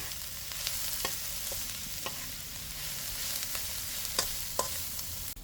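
Fish sautéed with tomato and egg (sarciado) sizzles steadily in a pan, with a soft continuous frying hiss broken by occasional utensil clinks and stirring scrapes, close and without speech.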